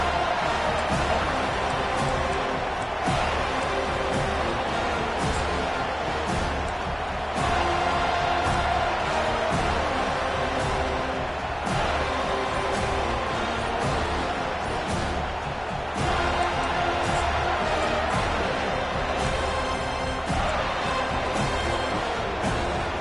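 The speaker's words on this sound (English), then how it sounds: "This crowd bringing the energy and noise early." A football stadium crowd roars and cheers continuously at a game against Michigan State, a dense wash of noise with swelling surges. A commentator's voice may sit faintly underneath.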